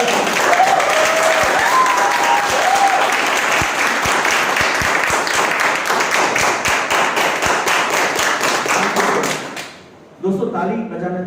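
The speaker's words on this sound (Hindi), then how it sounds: "बहुत अच्छा लगा कि आप सब लोग ताली बजा रहे हो" An audience at a seminar claps steadily and loudly, a thick sustained patter of many hands with some sharper individual claps, then it stops abruptly and a voice begins.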